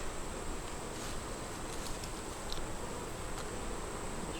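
Honey bees buzz in a dense, continuous hum during an open hive inspection, close and steady with a faint high drone above.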